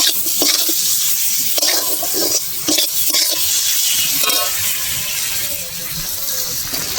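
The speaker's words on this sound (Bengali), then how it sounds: "ভালো করে নেড়ে চেড়ে ভেজে নেব" Steady sizzling of onion, ginger and garlic frying with tomato, with scraping and stirring clatter from a utensil in a pan, continuous and close.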